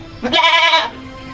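A single goat bleats once, a short, loud, nasal call close by, following a shampoo bath, with quiet background before and after.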